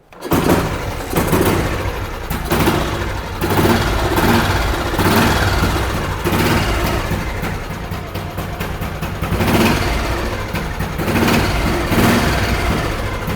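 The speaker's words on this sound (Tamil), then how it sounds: "ஸோ வெஹிக்கிள் ஸ்டார்ட் பண்ணி காமிச்சிடுறேன்." A restored 1970 Royal Enfield M series motorcycle with a sealed engine starts up and runs, a loud close rhythmic thumping with repeated throttle blips rising and settling across the clip, no talk over it.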